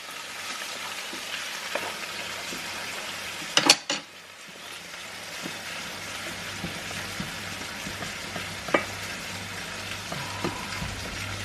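Butter sizzling in a hot frying pan alongside brill fillets, a steady close crackle and hiss running throughout with a few sharper clatters of the pan near the start.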